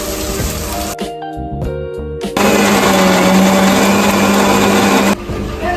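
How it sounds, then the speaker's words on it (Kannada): A kitchen mixer grinder blends roasted masala for a stuffed brinjal dish in bursts: a whirring start, a pause with small clicks and knocks, then a loud sustained grinding roar that drops back to a lighter whir. "ಇವಾಗ ಮಿಕ್ಸಿ ಮಾಡ್ಕೊತೀನಿ."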